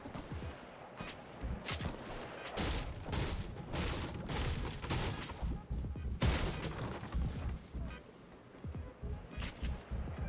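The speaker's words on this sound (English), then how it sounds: "I hear shots to my east." Distant gunfire in the Fortnite Battle Royale video game, a series of faint shots and bursts far off amid steady game ambience, with footstep-like movement and clatter nearby.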